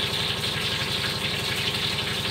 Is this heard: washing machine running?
yes